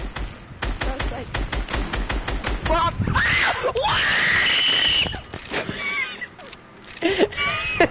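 A person screams loudly during a Fortnite match, a long strained shriek that wavers in pitch, with chatter and rapid game thumps before it and a shorter cry trailing after.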